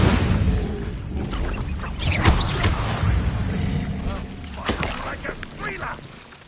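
An Incendio fire spell is cast in the Hogwarts Legacy video game, with whooshing, crackling bursts and crashing impacts that come in uneven waves, loud and close, while a voice speaks over part of it.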